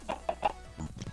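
A chicken in Minecraft, carrying a small piglin rider, gives a short run of soft clucks: three quick close calls followed by a few lower, fainter clucks, alone with no talk.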